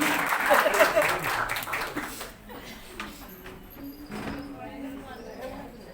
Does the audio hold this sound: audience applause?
yes